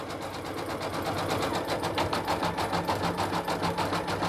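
An embroidery machine sews a satin stitch on a glitter patch with a loud, steady mechanical drone and a fast, even needle pulse running throughout, heard close up with no voices.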